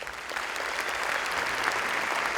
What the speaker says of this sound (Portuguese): a minha afilhada, Rebeca Tarek, para quem eu peço uma salva de palmas.